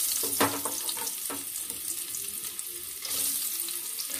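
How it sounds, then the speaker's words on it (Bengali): Paneer pieces coated with turmeric and salt frying in hot oil in a wok, a continuous close sizzle with a few sharp spatters and scrapes. "এখন হলুদ নুন মেখে পনিরগুলো ভেজে নেব।"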